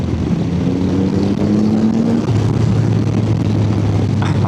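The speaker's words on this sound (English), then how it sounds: "I'm gonna gently goose the throttle." A motorcycle engine in third gear at about 3,500 RPM and 55 mph hums loud and steady as the throttle is gently opened, its tone rising then settling, with heavy wind rush throughout.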